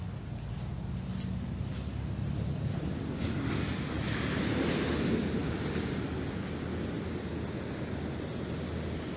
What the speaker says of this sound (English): I can see from here that surf looks a little wicked